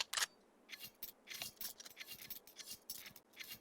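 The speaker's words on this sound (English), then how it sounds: "Do you hear some typing on the server" Keyboard typing on the server during a technical pause in an ESL Pro League Counter-Strike match between 2GAME and KRÜ: irregular, crisp clicking and rattling keystrokes, with no voices over them.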